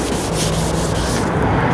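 Hand sanding of a plastic headlight lens with 400-grit sandpaper makes a continuous, close, dense scratchy rubbing that stays steady and even throughout, with no voices.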